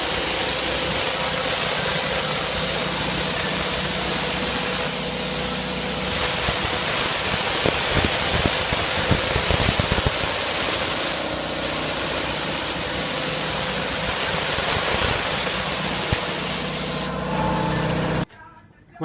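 A spray gun lays PPG paint onto an LX Torana body in a steady, close hiss that runs continuously with slight surges, then cuts off abruptly at the end.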